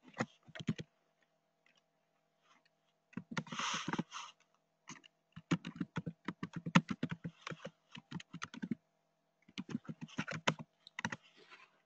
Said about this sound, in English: So I'm typing that out now for you.